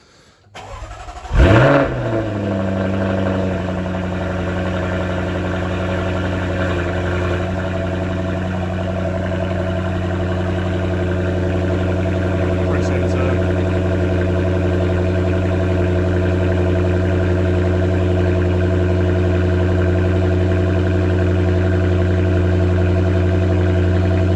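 A Jaguar F-Type engine cranks and catches, then settles into a steady, loud idle with a constant low hum that continues throughout.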